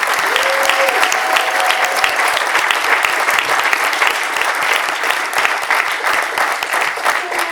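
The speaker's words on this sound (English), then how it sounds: "if we could give a round of applause for her." Steady, dense applause from a conference audience honoring Katie Milkman at the close of a behavior-change event, sustained and fairly loud throughout with a brief tone near the start and no clear speech.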